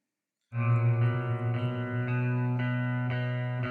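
A sustained synth or sampled tone in FL Studio fades in with a crossfade after a short silence, then holds steady with soft repeated re-attacks, smooth with no click at the start.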